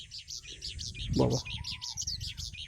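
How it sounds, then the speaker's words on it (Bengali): Various birds chirp and tweet in a steady, overlapping chorus at a campsite near a dam, with a brief burst of nearby speech in the middle. "শুধুমাত্র নানা রকমের পাখির শব্দ, আর কোনো শব্দ নেই।"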